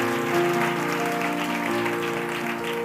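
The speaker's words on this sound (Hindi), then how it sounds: "जोरदार ताली बजाइए" A church congregation applauds during a worship service, a moderate, even clatter of clapping heard over sustained keyboard chords that hum steadily underneath.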